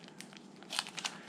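Plastic bag holding the striker for a vintage Coleman Peak 1 Model 550B camp stove crinkles close by in short bursts, growing louder and busier in the second half.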